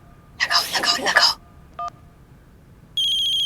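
Phone keypad tones beep, a short single tone follows, then a steady dial tone starts, after a brief burst of voice-like noise.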